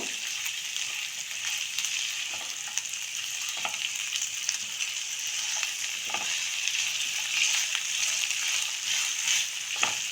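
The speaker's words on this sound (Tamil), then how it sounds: "நல்லா ஒரு டூ மினிட்ஸ் வதக்கிட்டு" Vegetables sautéing in a pan for a kurma make a loud, continuous frying sizzle with occasional stirring clicks throughout; nobody speaks.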